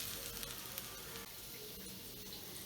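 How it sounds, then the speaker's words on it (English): Spices sautéing in a pan for malai kofta give off a steady, soft sizzle that stays even throughout, with faint crackles and no voices. "Then saute the spices for about 2 to 3 minutes."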